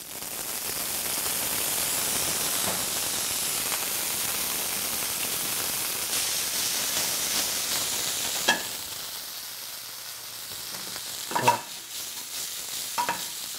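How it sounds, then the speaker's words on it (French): Sautéed fennel deglazed with Banyuls vinegar in a hot pan: a loud, steady hissing sizzle that gradually fades and thins, with a few sharp clinks of utensil against pan toward the end. "on vient faire sauter le fenouil, une légère coloration, et je viens déglacer au vinaigre de Bagnos"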